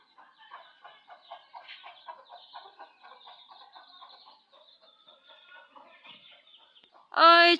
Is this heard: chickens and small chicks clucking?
yes